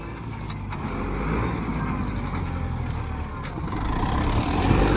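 A Kubota 4x4 tractor pulls a harrow across a farm field, its diesel engine giving a steady, loud, continuous rumble with no break.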